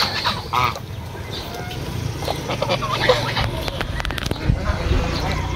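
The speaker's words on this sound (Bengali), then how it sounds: "পানিতে নামতেছে সব রাজহাঁস।" Domestic geese calling and honking as they head into the water beside a banyan tree in a village, mixed with other fowl clucks, light wind and faint background voices throughout.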